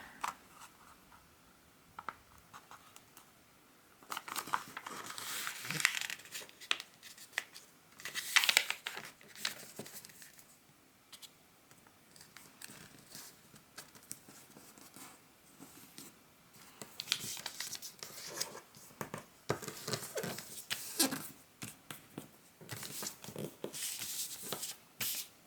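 Sushi Origami paper sheet being folded and creased, giving intermittent close crinkling, rustling and sliding scrapes in irregular bursts, with quiet gaps between handling and no talk.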